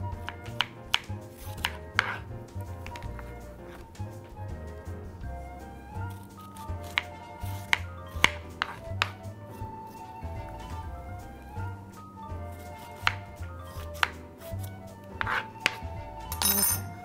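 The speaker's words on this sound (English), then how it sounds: "I just cut it in kind of big chunks." A knife chops a cucumber into big chunks on a cutting board, sharp, scattered knocks at irregular intervals, fairly quiet over a faint musical background.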